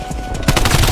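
Fast automatic gunfire in Black Ops Cold War multiplayer sounds as a short, close, loud burst of rapid shots.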